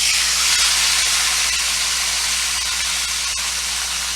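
Marinated top sirloin steak sizzles steadily on a hot griddle, a loud, continuous hiss with a faint low hum underneath and no talking.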